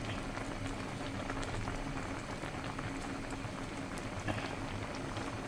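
Mango simmers in a pot of water, a steady soft bubbling and gurgling that stays even and fairly quiet from start to finish, with no voices.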